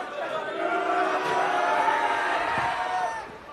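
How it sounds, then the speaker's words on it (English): A raucous crowd at a schoolboy First XV rugby match, Hamilton Boys' High against Tauranga Boys' College, makes a sustained swell of shouting and chatter that rises and holds, then fades slightly. "A raucous crowd right behind him."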